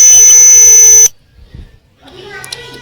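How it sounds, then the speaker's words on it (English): A sound projector tool emits a loud, steady electronic beep for about a second, then cuts off, leaving faint low rumbles and a softer, thinner tone returning near the end. "And the sounds is like beeping from the projector visor"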